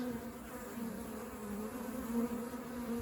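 A steady, droning buzz of many honey bees swarming close by at an apiary, continuous and fairly loud throughout with no voices.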